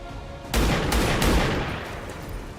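Gunfire aimed at a mech in XCOM 2: a sudden loud volley erupts, several sharp heavy bursts in quick succession, then a rumbling tail slowly fades.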